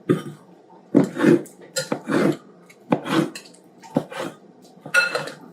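Avocado being smashed in a bowl for guacamole, a series of irregular clinking, scraping knocks of utensil against bowl, close and fairly loud.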